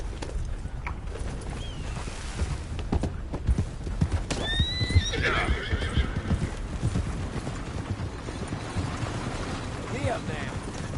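A horse in Red Dead Redemption 2 clops along at speed, hooves thudding steadily, with a clear neigh rising midway; a rider's voice talks over the galloping.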